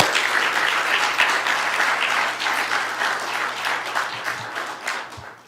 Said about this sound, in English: giving even Tim a round of applause